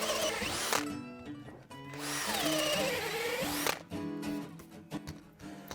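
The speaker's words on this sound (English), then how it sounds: "When you're doing this kind of drilling with these kind of drills, you do need to stop quite regularly and give it a chance to clear the chaff" A power drill bores into wood for a homemade welly boot rack, whining in several loud bursts that pause and restart as the bit bites and clears, with no talking.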